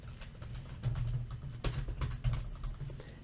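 Computer keyboard typing, a steady run of soft clicking keystrokes at close range, heard alone with no speech while a Python class example is written out.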